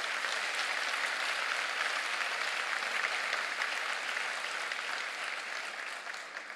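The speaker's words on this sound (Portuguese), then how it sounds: "Vamos aplaudir ao Senhor" A church congregation claps for the Lord at an evening service, producing an even wash of applause that stays steady and moderately distant throughout before easing slightly at the end.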